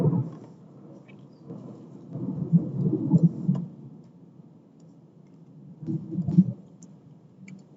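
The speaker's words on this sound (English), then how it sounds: "The thunder is stealing my thunder." Distant thunder rumbles low and soft during a lecture, rolling in two or three swells with quiet gaps between them.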